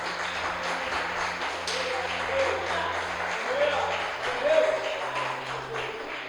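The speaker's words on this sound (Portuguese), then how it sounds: "Dê uma salva de palmas para o Senhor" Worshippers in church clap for the Lord, a moderate, continuous spatter of hands over soft, low sustained music, with a voice speaking over it at times.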